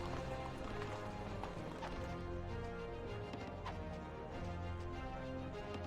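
Horse archers gallop across the map in the Rise of Nations strategy game, a dense continuous drumming of hooves with occasional whinnies, loud and steady over busy game sound effects and a low rumble.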